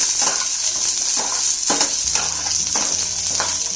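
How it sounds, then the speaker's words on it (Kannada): Onions sizzling in hot oil in a pan, a steady close frying hiss with a few stirring scrapes, no voices. "ಸ್ವಲ್ಪ ಈರುಳ್ಳಿ ಸ್ವಲ್ಪ ಕಲರ್ ಚೇಂಜ್ ಆಗೋ ತನಕ ರೋಸ್ಟ್ ಮಾಡ್ಕೊಳ್ಳೋಣ"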